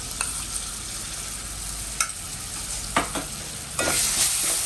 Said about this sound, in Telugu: ఇప్పుడు ఆల్రెడీ మన దగ్గర ఉన్న చింతపండు పేస్ట్ దీంట్లో వేసుకుంటాం.